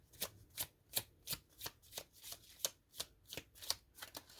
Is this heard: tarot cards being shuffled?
yes